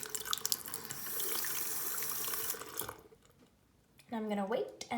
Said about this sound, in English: Then I'm going to fill it up with hot water.